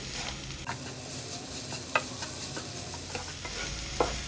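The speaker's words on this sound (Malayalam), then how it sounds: "ഇനി ഇതൊന്ന് ഇളക്കി കൊടുക്കാം" A spoon scrapes and stirs chicken filling with grated cheese in a pan, soft sizzling underneath and a couple of sharper clinks against the pan, no one speaking.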